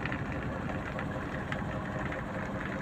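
A Mercedes Axor 2528 dump truck's diesel engine idles in a steady, continuous low rumble with a broad mechanical hum, close and unchanging throughout.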